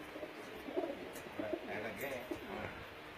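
A pigeon on a rooftop gives soft, low cooing notes, several short coos repeated at irregular intervals. They are faint and sit under nearby background noise and people talking.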